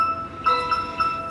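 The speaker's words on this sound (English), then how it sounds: "if you can hear, the hub in the background is triggered already" Tapo smart hub temperature alarm beeping in the background, a thin high-pitched electronic tone pulsing steadily over about a second, faint and slightly distant.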